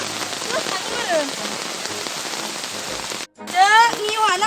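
Heavy rain pours steadily onto a surface, a loud continuous hiss that briefly drops out. Chirping birds and faint voices sound over the downpour.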